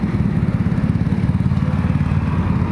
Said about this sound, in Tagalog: Maraming motor doon, marami rin motor dito.